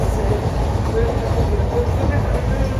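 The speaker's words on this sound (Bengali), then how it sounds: "বর্ধমান থেকে ট্রেন ছেড়ে দিয়েছি" A moving passenger train just pulled out of Bardhaman, giving a continuous low rumble and rolling carriage noise, with faint voices murmuring under the steady din.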